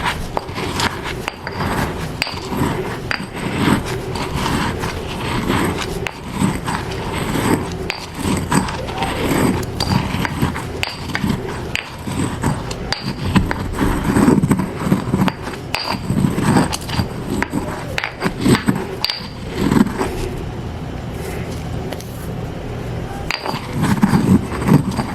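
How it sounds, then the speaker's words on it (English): Coarse salt ground down by hand, a loud, close, continuous gritty grinding and rubbing with irregular scraping strokes and ratchet-like crunches, no talking. "I'm going to put that coarse salt in, which technically is going to take me a while to get this coarse salt down"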